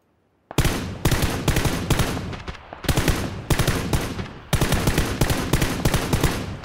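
M249 light machine gun fire in PUBG, loud and close, in several long sustained bursts with short pauses between them.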